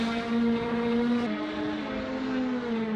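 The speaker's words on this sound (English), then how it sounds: "That twin spark engine screaming there as we get onto the higher part, or the faster part of the circuit rather" A Formula Alfa Romeo race car's twin spark engine holds a steady, high-pitched scream at speed on a circuit in the Cheshire countryside. It sounds continuous and droning, with no talk over it.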